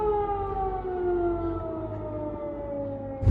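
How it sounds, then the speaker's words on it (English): A steady air raid siren wails continuously, a long sustained tone slowly sliding lower, heard from a distance with no talking. "So our area is now having sirens"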